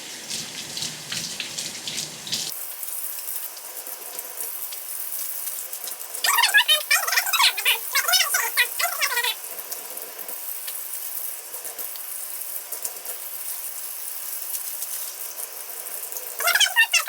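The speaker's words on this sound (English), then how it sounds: "I just like to take off a few pieces at a time, and then I just rinse them off" Cabbage leaves rinsed under running tap water, a steady hissing splash that swells louder in two stretches as the leaves are moved through the stream.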